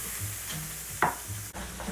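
Ribeye steaks with a coffee and morel dry rub, just pulled from the pan after searing four to five minutes per side, give off a soft, steady sizzle with one brief clink near the middle.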